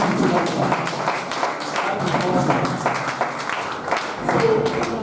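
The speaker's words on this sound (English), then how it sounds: "They have applause for him again" A seminar audience applauds a speaker with dense, steady clapping that runs through the whole stretch, with voices mixed in underneath.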